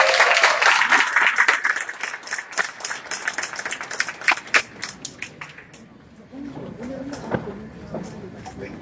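A crowd applauds at a neighborhood candidate forum, dense clapping that rises strongly at first, then thins toward scattered claps before fading into room noise.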